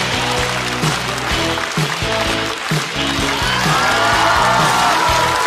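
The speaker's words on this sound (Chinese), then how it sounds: "所以我们就以最快的速度、热烈的掌声减少人家的尴尬" An audience at a stand-up comedy show claps warmly to welcome a performer onto the stage. The applause is a dense, steady patter mixed under loud, rhythmic walk-on music.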